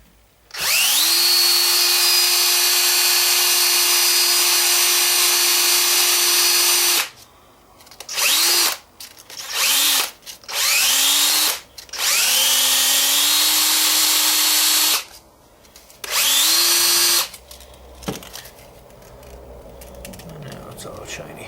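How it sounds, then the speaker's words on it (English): A power drill spins a cruddy front-end part from a GSX1400 motorcycle against fine sandpaper, a loud steady whine that runs for several seconds, then cuts in and out in short bursts before stopping. "just put it in a drill,"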